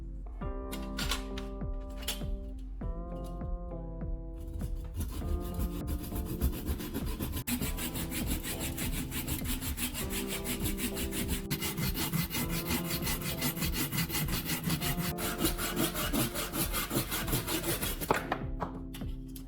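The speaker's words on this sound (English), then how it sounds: "I place a piece of wood on the table and start cutting." An old, rust-cleaned handsaw with a freshly sharpened blade cuts through a piece of wood on a table, giving steady, rhythmic rasping strokes heard close and loud for the whole stretch, with no talk.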